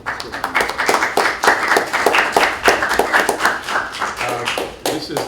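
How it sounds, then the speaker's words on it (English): An audience at a panel on political change in DR Congo gives a round of applause: a dense stretch of many hands clapping at fairly even loudness, with faint voices mixed in beneath the claps. "let's start off with a round of applause for the folks that put this whole panel together"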